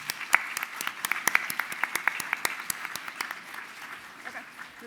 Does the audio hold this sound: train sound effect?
no